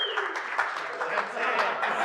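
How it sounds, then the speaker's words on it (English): A short round of applause from a team gathered for an all-staff update, dense continuous clapping with voices mixed in underneath. "Round of applause."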